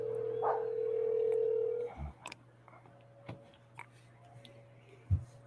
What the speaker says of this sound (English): I hear a phone ringing now.